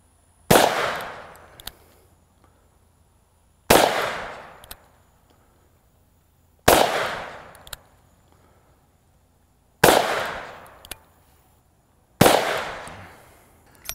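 Five heavy, booming shots from a Smith & Wesson Model 69 Combat .44 Magnum revolver ring out at a steady pace about three seconds apart, each sharp crack trailing off into an echo outdoors.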